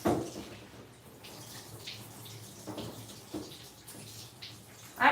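Water sprays from a grooming nozzle fitted with a soft cover while a Maltese dog is washed, coming in short gushing bursts with quieter gaps between them.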